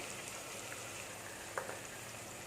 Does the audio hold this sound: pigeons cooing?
no